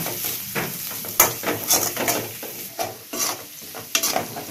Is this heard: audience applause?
no